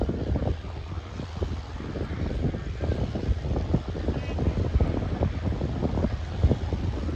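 A John Deere 5210 tractor running in an open field during a tractor competition, a steady low engine rumble under heavy wind buffeting on the microphone, with people talking over it.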